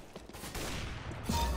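Counter-Strike: Global Offensive gunfight with a flurry of shots at moderate distance, fairly soft and blended into game ambience, rising to a louder burst near the end.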